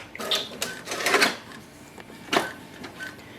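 A Brother MFC-J4535DW inkjet printer runs a nozzle check sheet, giving a close, uneven run of mechanical clicks and short whirring carriage passes, with a sharper burst near the end.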